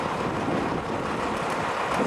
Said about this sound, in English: It's windy, so we're going to jump up inside of his cabin